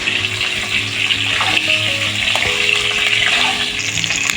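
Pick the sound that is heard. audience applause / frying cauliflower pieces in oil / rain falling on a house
frying cauliflower pieces in oil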